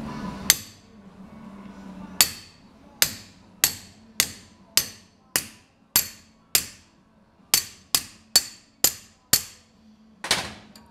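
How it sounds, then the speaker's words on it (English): A hammer taps V packings on a hydraulic cylinder piston of an Allis-Chalmers loader about fifteen times, sharp ringing taps spaced irregularly, close and loud, with a faint low hum underneath. "I'm going to try tapping with a hammer to compress the V packings"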